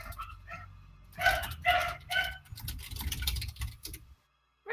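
Several dogs barking outside a home during an online tabletop role-playing game session, with repeated bursts picked up faintly at a distance behind a quiet room.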